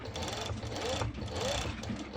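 A sewing machine top stitching fabric gives a quiet, rapid mechanical whir with a pulsing rhythm and slight dips, running on its own without talk.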